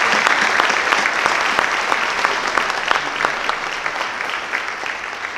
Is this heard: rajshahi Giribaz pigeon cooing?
no